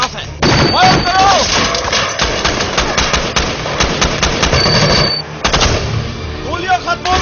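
Sustained machine gun fire in a Hollywood military action movie battle scene, loud and dense rapid bursts continuing for several seconds, with shouted voices mixed underneath.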